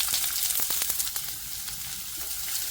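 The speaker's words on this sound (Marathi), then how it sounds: "कांदा जरा परतून घेते" Onion and curry leaves frying in a little oil in a pan, a bright continuous sizzle up close with quick scraping stirs and clicks early on, then a steadier hiss, no speech.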